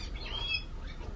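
Small birds chirp and tweet inside a store, giving a few brief high calls over a steady low background hum.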